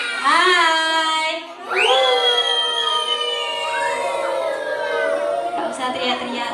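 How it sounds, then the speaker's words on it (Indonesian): Kindergarten children in a classroom shout together in long, drawn-out chorused calls, loud and close, with a brief pause between bursts of voices. "Gak usah teriak-teriak, nanti suaranya habis."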